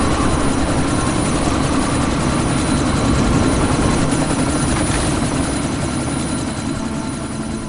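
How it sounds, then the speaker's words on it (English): A helicopter in Deus Ex: Mankind Divided, a loud, steady rotor roar and rumble holding constant throughout, slightly fading at the end, with no voices. "you need to disable that chopper."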